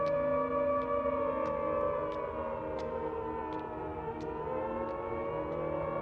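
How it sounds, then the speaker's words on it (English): Air raid sirens over Coventry during the Blitz wail in a long sustained tone, steady and droning, with faint regular ticks over it. "You could hear the sirens echoing off walls."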